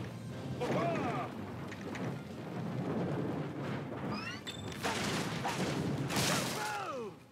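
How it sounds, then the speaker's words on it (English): A loud explosion bursts from the Skylanders Spyro's Adventure video game, with a booming crash, crackling debris and whooshing effects spread across several seconds. "What an explosion!"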